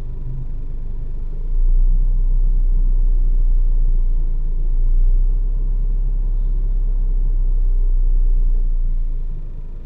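Traffic idles and creeps at a stoplight on Aurora Boulevard heading toward Cubao, Quezon City: a heavy, continuous low rumble of car and engine noise, steady and close, with no talk.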